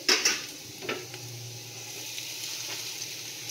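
Flattened rice (chira) fries in a pan for a homemade chira pulao, giving a steady soft sizzle, with a couple of sharp utensil clinks near the start and one more a moment later.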